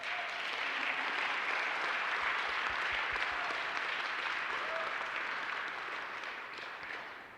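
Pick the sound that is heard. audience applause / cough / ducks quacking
audience applause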